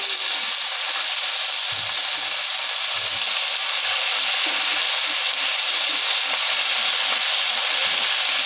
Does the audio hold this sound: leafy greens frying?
yes